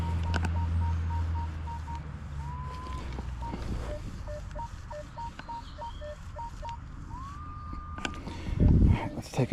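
A metal detector sweeping over ground at a 1700s house gives a steady electronic tone that repeatedly breaks into short beeps and rising warbles, fairly loud and close, with a scuffing thump at the end.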